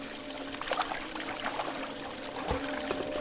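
Water pouring into a bucket in the video game Christmas Stories, a soft continuous trickle and splash at low level with a brief thud partway through, no talk.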